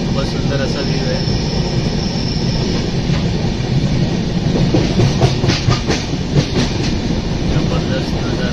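A Konkan Railway train pulls out of Kalamboli station toward Panvel, its wheels rumbling and clattering in a steady, loud, continuous roar with faint voices underneath.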